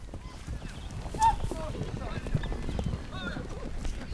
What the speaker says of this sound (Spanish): los jinetes van agrupando a los caballos intentando que los potros sin domar queden aprisionados en el centro